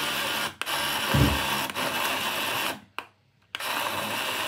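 A Temu fruit juicer blender motor runs loud and close with a steady, coarse whirr. It cuts out briefly twice and then starts up again.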